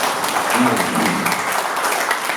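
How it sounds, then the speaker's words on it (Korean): Attendees at a founding general meeting of a bitcoin scholarship foundation clap together to approve a motion, a short burst of dense, loud group applause. "여러분의 박수로 네 박수로 처리를 하겠습니다."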